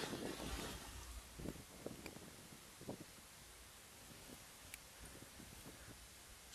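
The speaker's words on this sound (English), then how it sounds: "Still windy." Wind blows and gusts against the microphone on a chilly day of fishing, with intermittent low buffeting thumps over a quiet, steady outdoor hiss.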